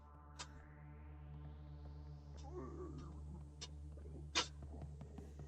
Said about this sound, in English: My cat is sneezing because I've got allergies and it's allergy season.